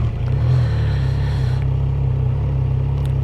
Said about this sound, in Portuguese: bora dar uma partida que eu sei que vocês gostam de ouvir o barulho do escapamento